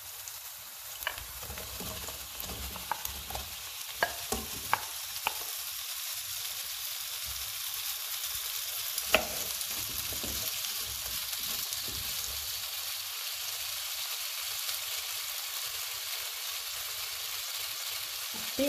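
Potatoes frying in a pan with parsley stems, a steady bright sizzle running throughout, with a few clacks of stirring near the start and middle, close and alone without talk.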